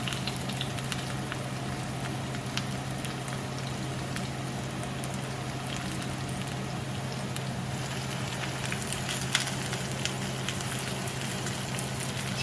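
Two onions frying in a pan for Russian-style fried potatoes give a constant soft sizzle and crackle, even and unbroken, with a steady low hum beneath.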